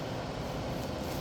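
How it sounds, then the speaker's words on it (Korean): A small fan heater runs in a seedling room, giving a steady, even whirring hum with no talk over it. "이게 소형 온풍기 돌아가는 소리입니다."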